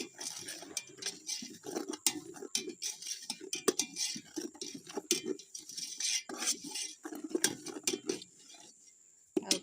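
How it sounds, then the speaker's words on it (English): Garri is stirred and turned with a utensil in a pot as groundnuts roast. The result is a busy run of scraping, clinking and gritty rustling that continues throughout at close range, with no talk. "So I'll keep on turning the garri to make sure that it is"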